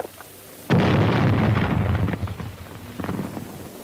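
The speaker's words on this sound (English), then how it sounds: "Throw a grenade and let them divide it." A grenade goes off in a war film: one sudden loud, close blast followed by a long rumbling, crackling decay, then a smaller second burst near the end.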